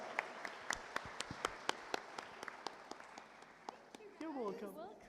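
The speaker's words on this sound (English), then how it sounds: "Give a round of applause." A small audience at a public lecture claps in a scattered, rhythmic run of distinct claps to welcome the speaker, then the clapping fades and a voice begins to speak.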